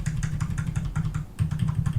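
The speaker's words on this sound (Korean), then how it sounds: "자, 키보드로 움직입니다." Computer keyboard keys pressed rapidly to steer a penguin through a maze in a Scratch game, a close, busy run of clicking keystrokes with a brief gap in the middle.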